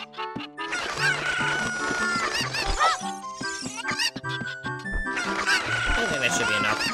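Cuckoo chickens cluck and squawk in The Legend of Zelda: Ocarina of Time, sharp bird calls repeating over tinkling game music, with the player speaking now and then.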